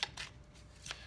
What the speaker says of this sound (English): I want to shuffle a bit more before the cards come out.